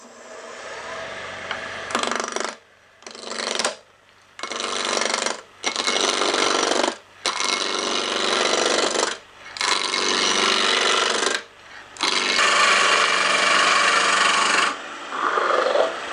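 Power tool making a 2-inch diameter rough cut in wood for a twig vase at a set speed of 1450, a loud steady grinding whine in repeated long runs separated by short pauses.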